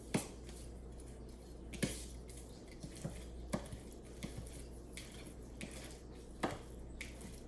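Knife chopping ingredients for chicken egg foo young on a red cutting board, giving irregular soft thuds and taps spaced a second or so apart over a steady low background hum, close by and fairly quiet.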